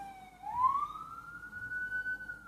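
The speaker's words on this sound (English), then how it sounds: "You hear the siren?" A single siren wails and rises in pitch, then holds a steady tone. It sounds somewhat distant, with no talking.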